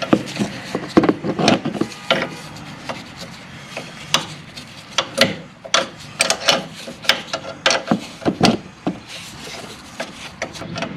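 A flare nut being threaded and tightened into a brake line fitting on a 1986 Ford Ranger diesel 4x4 disc brake, with close, irregular clicking, scraping and ratcheting bursts spread across the clip, no talk.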